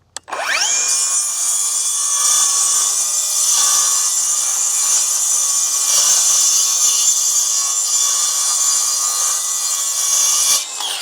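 A Milwaukee Gen 2 rear-handle circular saw (2930-21HD) spins up and rips at full depth through wood, trimming about a quarter inch, a loud sustained whining cut that holds steady for ten seconds before winding down.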